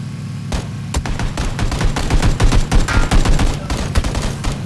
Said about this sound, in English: Are we shooting at them?